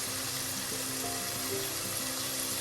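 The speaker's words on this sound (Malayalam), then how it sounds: "ലോ ഫ്ലെയിമിൽ അടച്ചു വെച്ചൊന്ന് വഴറ്റാം. ഉള്ളിയൊക്കെ ചെറുതായി ഒന്ന് വാടി തക്കാളിയൊക്കെ ഒന്ന് ഉടയാറായിട്ടുണ്ട്." Onions and tomatoes sauté in a covered pan over a low flame, giving a constant, close sizzle and frying hiss without pause and with no talking.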